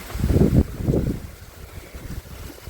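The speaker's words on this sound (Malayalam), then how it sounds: "കാറ്റുണ്ട് നല്ല." Strong wind gusts buffet the microphone outdoors in rainy weather, with two heavy low rumbling surges early on before settling into a softer, steady rush.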